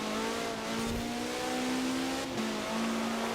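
The engine of a Caterham Superlight R500 in Forza Horizon 4 holds a loud, steady high-revving whine at full speed, with a brief shift in pitch partway through and no voices.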